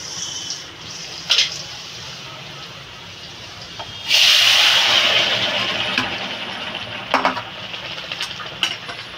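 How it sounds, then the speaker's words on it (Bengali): Bengali curry for a pangas fish and bitter gourd jhol poured into a hot pan of browned garlic, bursting into a loud steady sizzle that gradually settles, with a few clinks of a utensil against the pan. "এবার আমি তরকারিটা ঢেলে দেবো।"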